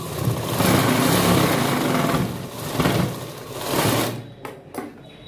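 A sewing machine runs steadily while stitching pleats on a khajuri salwar, a loud continuous whir that slows and stops near the end, followed by a few brief clicks.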